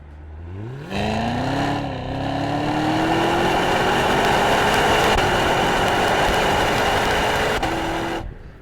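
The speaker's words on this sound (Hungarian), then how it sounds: "a kipufogó hangját" A Cadillac CTS-V engine starts up and revs, its exhaust rising in pitch and holding a loud, steady drone for several seconds before cutting off.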